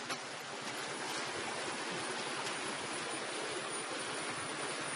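Flood water from a breached lake rushes through a Chikkamagaluru coffee plantation in a steady, dense roar that stays loud and unbroken throughout, with no voices.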